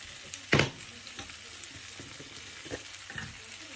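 Tomato masala with turmeric and Kashmiri chili powder sautés quietly in a pan for a coconut salmon curry. A soft, continuous sizzle is broken by a few sharper scrapes and clacks of stirring.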